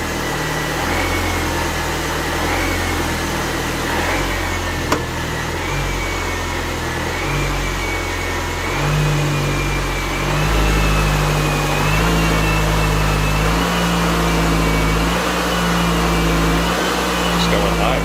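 A 2004 MINI Cooper S engine, recently restarted after sitting parked for about five years, runs with a steady drone and repeated rises in revs, someone talking over the engine noise.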